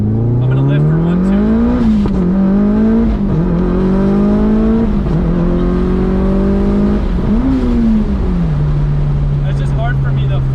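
A Mitsubishi Evo 5 accelerates hard, its engine rising in loud sweeping pulls broken by quick drops at each gear change before holding at a steady pitch.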